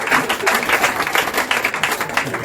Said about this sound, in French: vous m'acclamez très très fort.